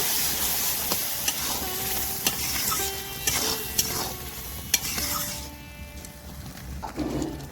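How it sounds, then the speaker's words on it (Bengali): A pan of banana flower curry with boiled dal is stirred over steady sizzling, with a spoon scraping and clicking against the pan now and then. The sound is close and there is no talking. "এবার দিয়ে দেব সিদ্ধ করে রাখা ডাল ও দিয়ে ভালো করে নেড়ে নেব"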